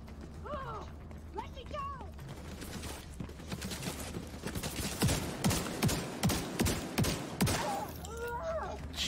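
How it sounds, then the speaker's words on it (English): Shotgun fire in The Division 2 video game: a burst of sharp, loud blasts, about six or seven in quick succession, lands in the middle of the clip. Mechanical clacks and faint voices sit underneath. "Seven shotgun blasts"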